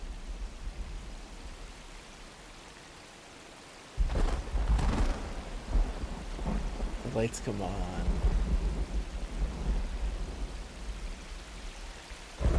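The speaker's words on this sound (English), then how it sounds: "Oh, you hear that rumble? Storms of Bruin." Steady rain and low thunder rumble in the PC game Myst Online: Uru Live, a constant broadband wash that swells louder partway through, with someone talking over it.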